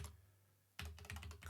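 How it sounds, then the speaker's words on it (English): Quick bursts of typing on a computer keyboard, close and quiet, a rapid run of key clicks after a short pause, with no talking. "Why do I find typing cartridge so incredibly difficult?"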